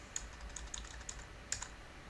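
Keys tapped on a computer keyboard while entering Linux install commands on legacy hardware running ChromeOS Flex, a handful of crisp, irregular clicks over about two seconds, close and fairly quiet with a soft pause mid-way.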